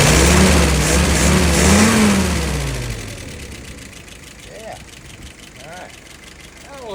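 Carbureted engine revving up loudly and then settling back to a steady low idle, close and prominent, with a brief rise again at the very end.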